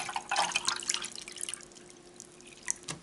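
Vinegar poured from a bottle into the water tank of an Aldi K-Fee pod coffee maker, heard as close, uneven liquid splashing and dripping that trails off toward the end.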